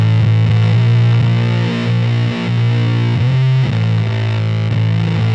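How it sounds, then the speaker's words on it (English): Electric guitar runs through a Muff-style fuzz pedal with the tone set bright, giving a trebly, saw-like, heavily saturated fuzz; loud sustained riffing with chord changes and no voices. "you can turn the tone to the right, trebly, saw-like fuzz, or you can turn it back for more woolly muff sounds"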